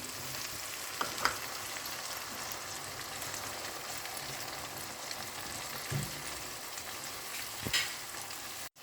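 Oil sizzles steadily in a pan while food is sautéed with ground dried chili, a constant close frying hiss broken by a few sharp stirring clicks.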